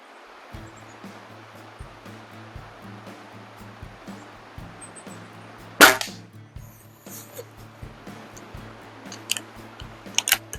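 Slavia CZ Model 631 air rifle firing a Diablo pellet at 25 yards: one sharp, loud crack partway through, with quieter mechanical handling clicks around it and faint background hum.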